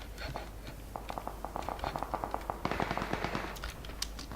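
Rapid gunfire rattles through a shootout on cliffs in the video game PUBG Battlegrounds, with a fast string of shots at moderate distance and a few sharper single cracks near the end.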